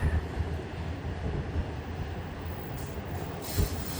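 A BNSF freight train rolls past near Livingston, Montana, its wheels and cars producing a continuous heavy rumble and rattle at close range, with a brief metallic squeal breaking through toward the end.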